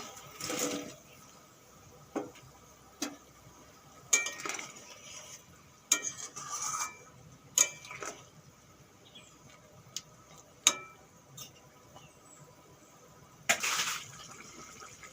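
Fried kolai lentil fritters go into a pot of boiling curry, with scattered clinks of a spoon against the pan, soft splashes and stirring sounds spaced over several seconds.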